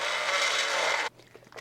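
Magic Bullet blender whirring loudly as it blends bananas, coconut yogurt and water: a steady, dense motor roar for about a second that cuts off abruptly, followed by faint knocks and rustles.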